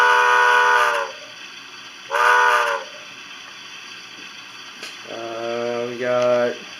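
Bachmann 2-6-0 Mogul model steam locomotive sounding its whistle: two loud steady blasts followed by a lower chime-like whistle with a short repeat, set against a constant mechanical hum.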